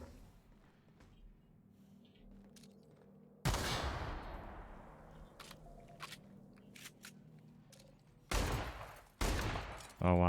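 Gunfire in the video game The Outer Worlds: a loud burst of shots at about 3.5 seconds, a few sharp isolated cracks after it, and two more loud bursts near the end, with quieter game ambience in the gaps.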